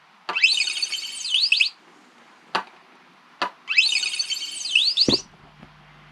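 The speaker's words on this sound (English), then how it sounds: "each time you touch the logo it plays the giggle sound." The built-in giggle sound of a micro:bit V2 plays twice from its small speaker, each time a rising and falling run of bright electronic chirps, with sharp taps of the logo touch between and a faint low hum at the end.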